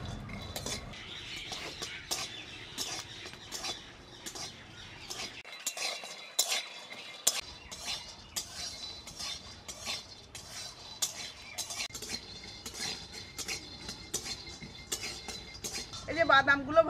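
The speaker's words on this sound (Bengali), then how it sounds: "এবার বাদামগুলো ভেজে নেব, আর এই বাদামগুলো কাঁচা" Raw peanuts roast in a dry pan while a spatula scrapes and stirs them, producing a steady run of rhythmic metallic scrapes and rattles with a faint sizzle, a short pause partway through, and occasional speech.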